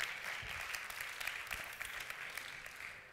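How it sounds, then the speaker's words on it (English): Audience applause at a mobile technology awards event, steady dense clapping from a large crowd throughout, fairly even and close. "So big round of applause for Mobile World Capital."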